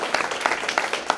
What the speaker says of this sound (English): give a round of applause to the London Nelson Center